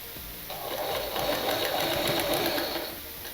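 A sewing machine stitches baby jabla fabric in one steady, fast, close mechanical whir with a rapid even needle rhythm, running alone throughout.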